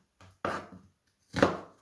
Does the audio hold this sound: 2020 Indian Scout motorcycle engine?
no